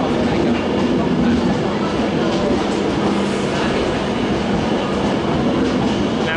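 A Pendolino train at a busy railway station platform makes a loud, continuous rumble that fills the space evenly throughout, with no clear breaks.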